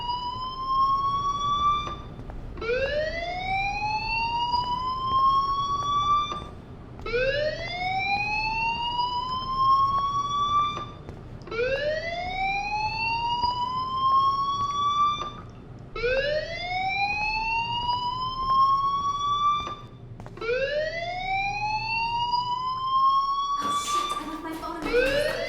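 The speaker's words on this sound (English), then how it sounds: "Hey, do you hear that fire alarm?" A fire alarm in a video game wails in repeated rising electronic sweeps, six loud cycles in an even rhythm, each rising and then cutting off, before a burst of harsher noise at the end.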